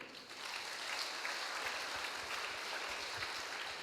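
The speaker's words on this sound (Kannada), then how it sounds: "ಚಪ್ಪಾಳೆ ತಟ್ರಿ." A church congregation at a morning prayer and worship service clapping together, a dense sustained round of applause that starts abruptly and holds steady for several seconds.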